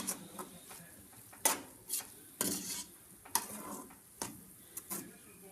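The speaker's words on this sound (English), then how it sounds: "We're going to stir it again." Jambalaya being stirred in a pot: a spoon scrapes and clinks against the metal in an irregular series of sharp strokes, fairly close but quiet overall.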